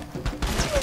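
A quick gun reload in the video game Far Cry 2: a short run of mechanical clicks and metallic clacks with a creaking slide, close and fairly loud, lasting under a second.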